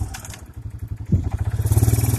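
Kawasaki Bayou 220 four-wheeler engine running nearby, a steady low putter that rises slightly in pitch partway through, with some rattling clatter and no voices.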